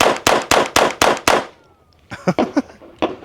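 A SIG Sauer P322 .22 pistol firing cheap ammunition: seven sharp, loud shots in quick steady succession, a short pause, then a few more scattered, slightly softer cracks.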